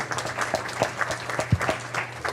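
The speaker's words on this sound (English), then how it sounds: "Let's give them a big round of applause." A middle school audience claps at a mayor's community night, giving a short, fairly close round of applause with sparse individual claps over a low hum.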